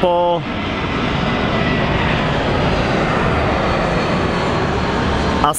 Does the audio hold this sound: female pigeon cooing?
no